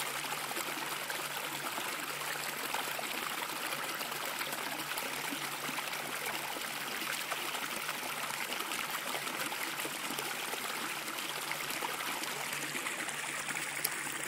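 Alaska Creek, a small mountain creek in the Kootenay region, flowing with a steady close bubbling trickle and rush, continuous and even throughout, with no talk.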